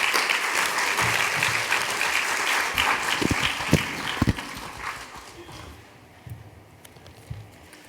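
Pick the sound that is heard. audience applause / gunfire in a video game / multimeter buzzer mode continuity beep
audience applause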